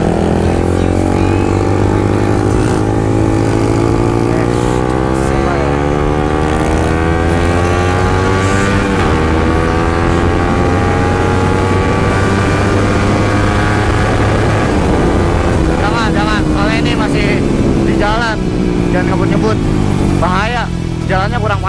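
A Suzuki GSX-R 150 motorcycle screams at full throttle on a public road, its engine note climbing through the gears with loud, steady wind roar, and a rider's voice briefly audible near the end.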